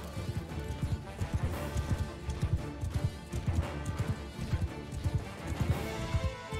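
A horse gallops in the medieval battle game Mount & Blade II: Bannerlord, its hooves thudding in a fast, steady rhythm, loud and close, with a continuous clatter behind them.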